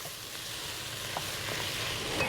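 Garlic is stirred into a sizzling pot of vegetable minestrone soup, giving a steady close crackle and hiss with faint scraping from the stir. No one speaks over the brief sound.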